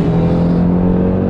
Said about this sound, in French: sortie de péage, le son du 5 cylindres est très sympathique